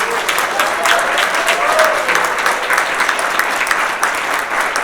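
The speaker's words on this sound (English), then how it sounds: "I think we definitely need to give another round of applause for all the musical performances tonight." Sustained audience applause at a live playwrights' awards gala honouring the evening's musical performances, a dense, even wash of clapping filling the hall for several seconds.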